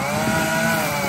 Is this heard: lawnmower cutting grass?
yes